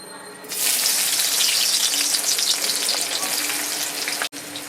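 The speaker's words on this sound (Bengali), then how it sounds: "তেল গরম হয়ে গেছে আমি পেঁয়াজ দিয়ে দিচ্ছি" Onions dropped into hot mustard oil in a kadai burst into a loud, steady sizzle that starts abruptly and holds close and dense, with a brief break near the end.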